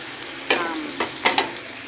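Carbonara being stirred in a frying pan, a soft sizzle under four or five distinct scraping strokes of a utensil across the pan.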